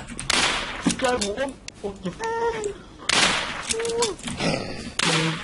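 Bursts of gunfire ring out while ghosts are shot in a video game, loud and close, mixed with excited voices talking over the shots.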